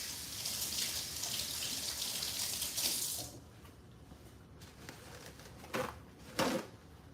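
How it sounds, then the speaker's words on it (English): Tap water runs steadily into a kitchen sink while hands are washed, then the flow cuts off, leaving a quiet room with a couple of brief splashes and clatters near the end. "I will go ahead and wash my hands"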